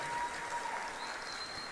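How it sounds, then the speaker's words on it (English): Audience applauds Miss Belize, a steady, moderately loud round of clapping from a crowd filling the whole short stretch. "Big round of applause for Miss Belize."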